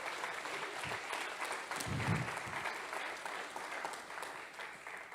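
A church congregation claps together in sustained, dense applause that fills the whole stretch at steady loudness, with a brief swell near the middle.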